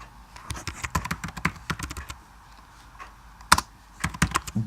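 Code being typed on a computer keyboard for a C++ program in Xcode: rapid bursts of close, crisp key clicks in uneven runs, with a brief pause before a final flurry, no talking.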